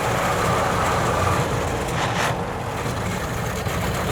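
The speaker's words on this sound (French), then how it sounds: "on entend bien à chaque passage de vitesse, les pignons se mettre en prise dans la boîte" A vintage Taxi de la Marne town car runs with a steady, loud mechanical drone, and a brief change around midway suggests its gearbox pinions meshing during a gear shift.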